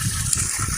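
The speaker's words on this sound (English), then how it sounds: "I'm just going to drain this tank out real quick." Water gushes steadily out of a pressure washer tank with its filter removed, a short, close, continuous splashing rush with no pause.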